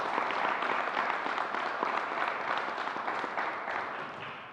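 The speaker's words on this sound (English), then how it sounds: "let's give her a round of applause" A room full of people at a New York governor's COVID press briefing claps steadily, a dense even patter of applause that tapers slightly toward the end.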